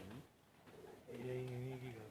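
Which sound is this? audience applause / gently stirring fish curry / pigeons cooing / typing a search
pigeons cooing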